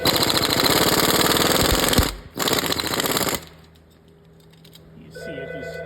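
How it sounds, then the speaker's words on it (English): A hammer strikes a failed sway bar end link on a 2007-2020 Chevy Silverado in rapid, loud metallic blows, then stops abruptly, leaving quieter clinks and a hum. "You can see I whacked it a few times with a hammer."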